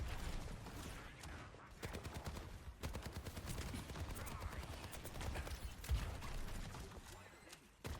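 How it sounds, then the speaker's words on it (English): Video game gunfire as a player shoots at a wall, a string of sharp cracks and short bursts with uneven spacing, layered over a busy game soundscape. "you're shooting at a wall"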